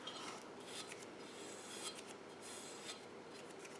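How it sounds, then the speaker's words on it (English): A small hacksaw cuts material for a cup holder install in a 1988–1991 Honda Civic, rasping in quick, uneven back-and-forth strokes, close and fairly quiet, with no voices. "my little hacksaw here."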